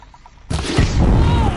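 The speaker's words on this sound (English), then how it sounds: "Why are they shooting at me?" Gunfire aimed at the player in Horizon Zero Dawn, a sudden loud burst that cuts in and then keeps up as a dense, heavy barrage.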